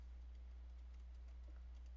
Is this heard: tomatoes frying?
no